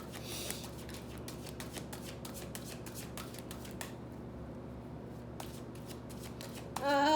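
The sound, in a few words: shuffling tarot cards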